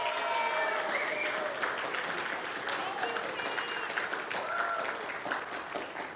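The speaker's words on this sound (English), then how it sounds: "So if we could give her another round of applause." Sustained audience applause in a church gathering hall, a thick wash of clapping with a few voices calling out over it, steady and loud throughout.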